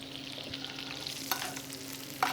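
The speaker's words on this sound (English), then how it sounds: "mushrooms are in the pan." Button mushrooms sizzle in a hot pan just out of the oven, a soft continuous crackle up close with a couple of sharper spits and pan clinks.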